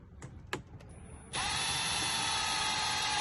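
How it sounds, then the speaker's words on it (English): A power drill with a 7/64 bit boring a hole while installing a radio dash mount in a 2004–06 Toyota Tundra: a couple of brief clicks and taps, then the drill whines up and runs steadily at close range. "Once you get your first hole drilled"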